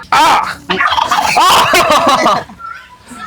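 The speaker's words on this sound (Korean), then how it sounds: "저건 터키. 칠면조네." A turkey gobbles loudly and close by in a rapid, warbling burst, then falls quiet with faint background noise.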